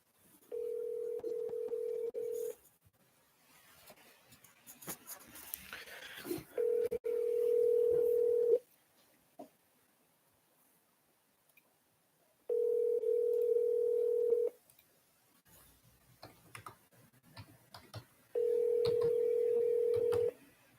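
A telephone call plays out as a steady ringback tone sounding in four evenly spaced bursts of about two seconds, with faint clicks and line noise between the rings.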